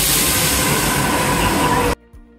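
An old metro train runs in Rome, a loud steady rumble and hiss with faint clatter filling the car, then the noise cuts off abruptly to near quiet.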